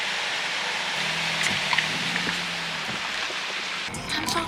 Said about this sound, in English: it's raining hella hard outside and my shoes are squeaking